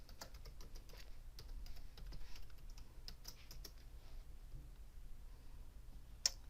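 A password being typed on a computer keyboard to open a remote session gives quiet, rapid clicks of keys at an even pace, faint and close, with no talk.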